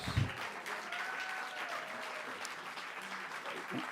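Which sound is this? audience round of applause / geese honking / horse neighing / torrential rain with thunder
audience round of applause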